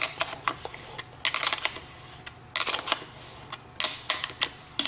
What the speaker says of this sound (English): you don't have to wrench on it tightly, just enough to tighten it